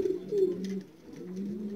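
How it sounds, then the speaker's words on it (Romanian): Low, soft pigeon cooing, a brief murmuring call repeated nearby. "35 de porumbei sosiți"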